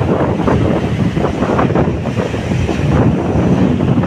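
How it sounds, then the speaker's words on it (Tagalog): Continuous roaring surf from strong storm-driven waves on the Pangasinan coast, with heavy wind buffeting the microphone, loud and close, waves crashing in an unbroken wash of noise. "So gusto po sana maligo, kaso nga lang lakas ng alon."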